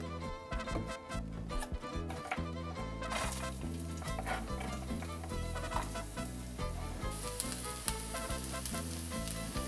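Onions frying in oil in a pan give a continuous soft sizzle that grows brighter partway through, under steady background music.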